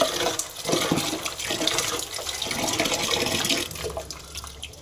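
Water poured over crushed wild turkey berries to wash them, an uneven splashing and sloshing stream, fairly close, tapering off toward the end.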